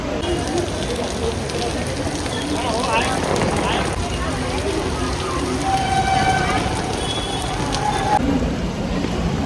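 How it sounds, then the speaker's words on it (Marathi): Heavy rain pours steadily and loudly in the open near a library in the evening, a dense continuous wash of falling water with some faint voice-like sounds in the background. "बहुत ही बारिश हो रही"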